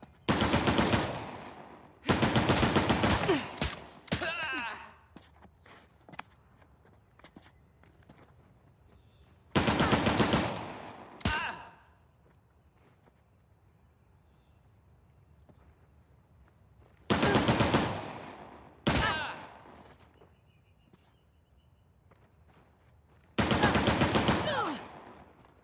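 Gunfire in Uncharted: The Lost Legacy, coming in several loud rapid-fire bursts separated by quieter gaps, with faint background action between volleys and no talk over it.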